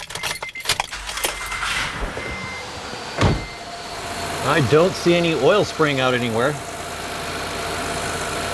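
A Honda J-series engine, just repaired for an oil leak, cranks and starts after a jangle of keys, then settles into a steady, even idle while someone talks over it.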